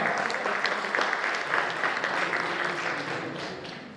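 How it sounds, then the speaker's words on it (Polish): Audience at a political convention applauding election candidates, sustained dense clapping, fairly close and loud, slowly tapering toward the end. "Wielkie brawa!"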